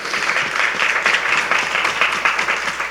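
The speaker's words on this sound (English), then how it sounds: "I just want to give you applause for that." Steady applause from an audience at an awards ceremony, dense and continuous clapping at close range with no pauses across the stretch.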